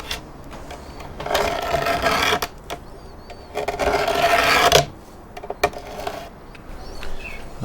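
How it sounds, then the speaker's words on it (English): A hand paint scraper rasps paint off the cabinet of a Bush VHF64 radio in two long, close scraping bursts, followed by quieter short scrapes and taps. "And this is just a paint scraper."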